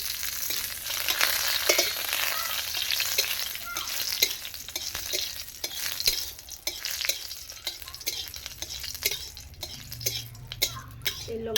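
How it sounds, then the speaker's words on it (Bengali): Continuous crackling sizzle of dry red chillies frying in oil, with frequent light clicks and scrapes of a spoon stirring in the pan. "এই শুকনো লঙ্কাগুলো ভেজে দিচ্ছি"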